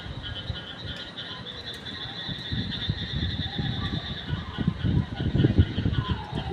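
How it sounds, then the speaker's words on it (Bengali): A dense chorus of frogs croaking at night, many overlapping calls pulsing irregularly and growing louder toward the end, with a faint voice in the background. "কত সুন্দর লাগতেছে ব্যাঙের ডাকগুলা"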